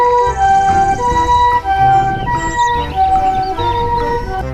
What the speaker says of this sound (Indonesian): Ini mobil ambulan teman-teman.